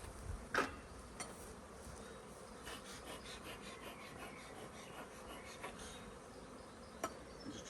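Honey bees buzzing faintly and continuously around an open beehive during an inspection, a steady low hum with a few soft knocks and rubbing sounds, no talking.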